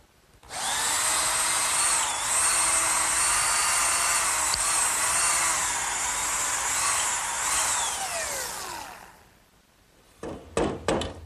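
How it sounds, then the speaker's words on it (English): A power drill whines at high speed for several seconds, its pitch dipping as the bit bores up through 2x4 wood, then spins down, followed by a few clunks. "And now I want to drill 2 more holes right up through these 2x4s."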